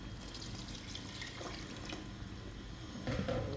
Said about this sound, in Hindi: वो यखनी हम इसमें ऐड करेंगे।